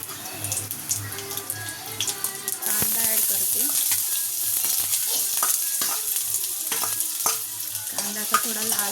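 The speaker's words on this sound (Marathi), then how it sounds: "तेल थोडंसं गरम झालं की लसूण ॲड करते आणि याच्यामध्ये टाकते मी" Garlic dropped into lightly heated oil crackles and sizzles up close, joined by clattering stirs and scraping of a utensil, with a brief run of water in the background.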